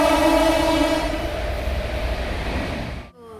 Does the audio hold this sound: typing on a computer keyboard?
no